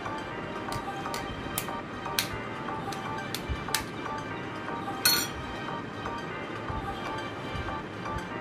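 Egg being beaten in a bowl for egg dosa, a series of light clinks and taps of a utensil against the bowl in an irregular rhythm, with one louder clatter midway.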